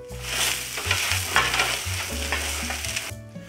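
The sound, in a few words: arborio rice toasting with onion and garlic in pan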